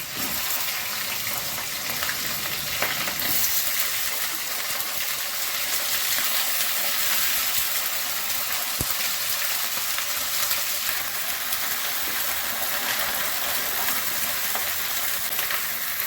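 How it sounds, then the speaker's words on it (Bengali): Cauliflower florets and grated ginger fry in a pan for a Bengali moong dal, giving a steady, close hiss of sizzling oil that runs evenly throughout, with a few faint clinks and no talking. "গ্রেট করা আদা দিচ্ছি, এবার এই ফুলকপিগুলো দিয়ে দিচ্ছি।"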